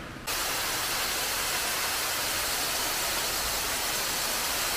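Waterfall at Dollywood theme park, a loud, steady, broadband rush of falling water that continues without a break and drowns out other sounds.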